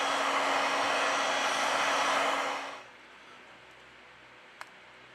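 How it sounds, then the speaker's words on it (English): A heat gun blows steadily and loudly on a Huawei Y9 2019 phone screen at 90 °C, a broad even roar that cuts off near the three-second mark, leaving quiet room tone and a single faint tick. "With the help of a heat gun, we apply 90 Celsius degrees during 4 minutes."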